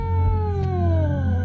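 Cat in the horror video game DreadOut 2 lets out a long, drawn-out yowling meow, loud and close, with a steady low hum underneath and no talking.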